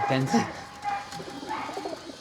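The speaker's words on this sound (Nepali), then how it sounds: "कस्तो क्युट लुकिङ परेवा हुन्छ" Soft pigeon coos come from Panjabi fancy pigeons in a loft in Nepal, short and close, mixed in with a person talking.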